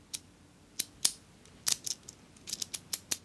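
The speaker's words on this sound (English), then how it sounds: "I love the sound of those pins clicking into their special positions." A key turns in a pin tumbler lock, giving a quiet, close series of sharp metallic clicks and ticks at irregular intervals, bunching toward the end.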